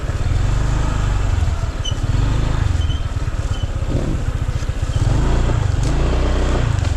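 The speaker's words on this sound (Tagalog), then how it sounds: "Parang may motor dyan, oh." A motorcycle engine runs close by with a steady low rumble and a pulsing, chugging idle throughout, loud and continuous with no talk.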